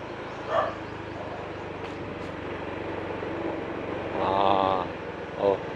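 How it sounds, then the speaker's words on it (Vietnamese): Dogs bark loudly in a quiet residential alley in Saigon's Nhà Bè district, with a short bark, then a longer burst of barking and a final yelp over steady background traffic hum. "Trời, chó sủa dữ vậy."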